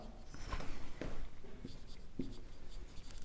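A pen writing an accounting journal entry by hand on paper, faint scratchy strokes and taps in short bursts, with someone speaking over them.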